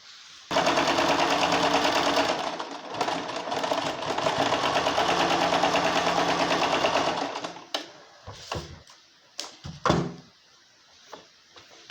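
Sewing machine stitching a pleated drum sleeve, running loud and continuous for about seven seconds, then a few clicks and knocks as the fabric is handled; no speech.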